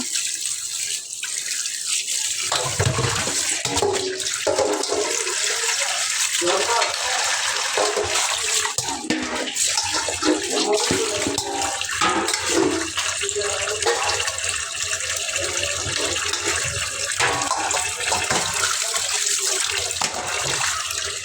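Fresh pond fish get rinsed under a running tap, water gushing and splashing steadily and loudly into a sink after a brief quiet opening.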